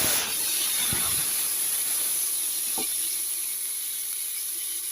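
Sliced onions go into a hot pan with chopped garlic for a bean curry and sizzle in a loud, steady hiss that lasts the whole time, with a few faint taps.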